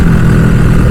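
A motorcycle engine runs loud and close, a rough low throbbing drone with uneven pulses from misfiring, heard alone for a brief moment.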